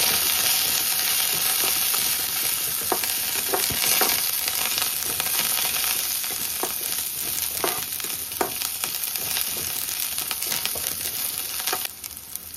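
Green chillies and curry leaves fry in a pan for semolina pitha, giving a steady loud sizzle with scattered crackles and stirring clicks throughout, no talking.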